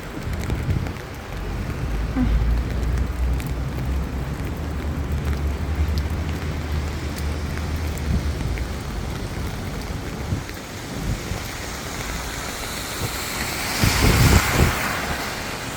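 Steady rain hiss with broad wet road noise during bad weather, low engine rumble of a passing vehicle through the first half and a louder swell of traffic near the end.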